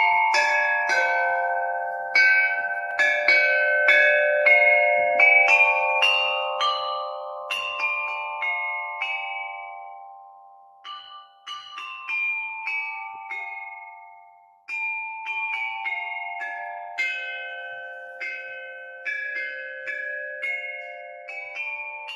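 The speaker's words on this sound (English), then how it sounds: "I included music played on replica bells of the same sort" Replica medieval bells ring out a slow melody, each struck note bright and clear with a long, shimmering decay that overlaps the next. The phrases are played alone with brief pauses between them.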